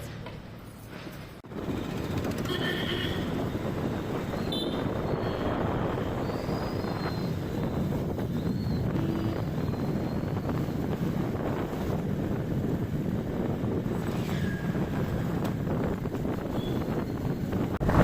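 Wind buffets the microphone of a rider on a motorcycle in Varkala, Kerala, India, a loud, continuous roaring rush that swells after a brief quieter start and keeps going with faint traffic tones behind it.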